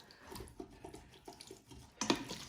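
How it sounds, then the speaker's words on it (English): Water poured into an Instant Pot after sautéing, a soft, faint trickle and gentle splashing with a brief louder gush near the end, heard alone. "then you want to add in your water into the Instant Pot"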